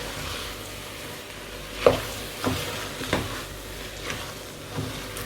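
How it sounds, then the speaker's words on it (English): A spoon stirs washed rice with minced beef in a pan for dirty rice, giving a low steady scraping and sizzling bed with about five soft knocks of the spoon against the pan, close by and with no talk. "I'll use my spoon and give that a very good mix."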